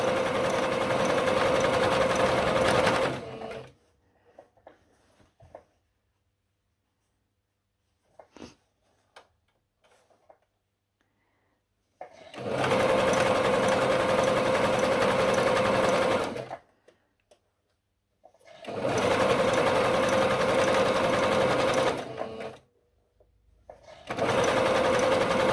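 A home sewing machine runs in three steady bursts of several seconds each while stitching the elastic waistband of boxer shorts, with near-silent pauses between runs as the fabric is adjusted.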